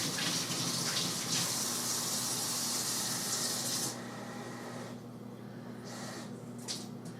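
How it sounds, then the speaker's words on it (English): Cold water runs from a tap into buttermilk biscuit dough, a steady close gush that eases to a softer trickle midway, with a few faint clinks near the end. "add a little bit of cold water"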